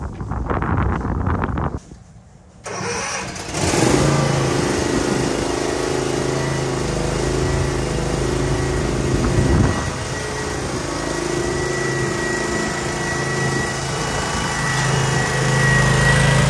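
A Cub Cadet riding lawn mower engine running at a steady drone through a lawn mowing session, with a brief drop near the start before the loud, continuous hum settles in; wind buffets the microphone.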